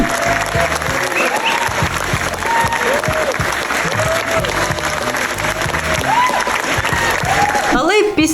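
Sustained applause from a large crowd fills a film festival screening hall, steady and dense throughout, with a few voices faintly audible beneath the clapping.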